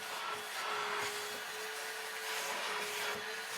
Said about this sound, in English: so I'm going to vacuum it